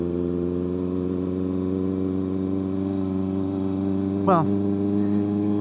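A Kawasaki ZX6R motorcycle on a dusk ride holds a steady, droning engine note at constant revs throughout, close and loud. A voice speaks briefly over it near the end.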